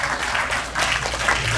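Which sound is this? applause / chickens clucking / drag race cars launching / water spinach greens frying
applause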